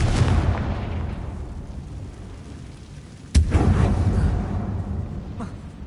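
A Confringo spell explosion in the Hogwarts Legacy video game sets off a deep rumbling blast inside a mine tomb, followed by a sharp second boom and a long low roar that fades slowly.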